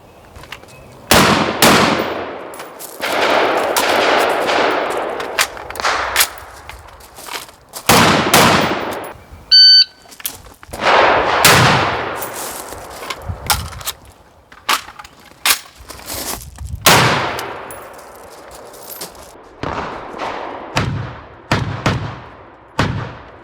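A Steyr AUG-A3 rifle fires outdoors after a magazine change, sending loud, sharp reports in irregular bursts and single shots that decay between them, with a brief metallic click near the middle.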